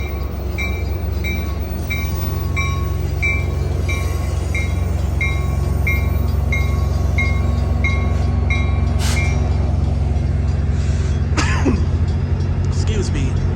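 Amtrak Capital Corridor train arriving at Fremont Centerville station in California, with steady low rumble and a repeating beeping tone over the first half, then brief squeals and clatter; people talk nearby throughout.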